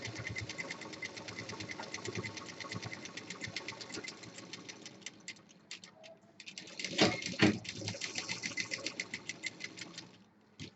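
Sewing machine stitching two fabric pieces together for a party purse, a rapid mechanical patter in continuous runs, close and moderately loud, with a short pause and some handling clatter midway.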